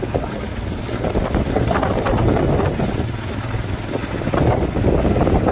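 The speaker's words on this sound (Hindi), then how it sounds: "अभी फिलहाल हवा मिल रहा है" Steady, loud wind rush buffets the microphone while riding a motorbike on a mountain road toward Gangtok, Sikkim, a continuous roar with no talk.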